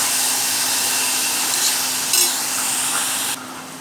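Onions and tomatoes sauté in a pan for a dried-fish thokku, giving a steady loud sizzle with faint scraping as they are mashed, a brief louder scrape midway, and the hiss dropping off near the end.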